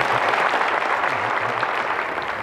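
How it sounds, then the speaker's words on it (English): Audience applause at a basketball event, a loud, dense, continuous clapping crowd filling the space for the whole stretch, tapering slightly toward the end. "Can y'all give my grandmother a round of applause for me?"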